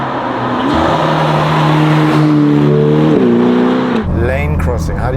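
A Ferrari Roma fitted with Novitec parts accelerates hard on a road in Switzerland, its engine note climbing loud and close through rising revs, then dropping briefly at a gear change before pulling up again.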